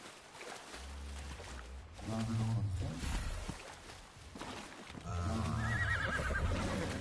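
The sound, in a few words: horse neighing in the video game Ark Survival Ascended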